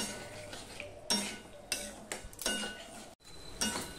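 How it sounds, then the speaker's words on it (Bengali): Spice masala with chilli powder and a little water is stirred and fried in a pan for bhendi aloo, with repeated spoon scrapes and clinks against the metal over a quiet sizzle, close and soft. "এবার মশলাটা আমি ভালো করে কষিয়ে নেব।"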